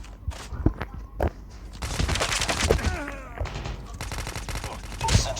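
Video game gunfire rattles in several sharp bursts and single shots, close and loud, with scuffing footstep-like thuds between the volleys.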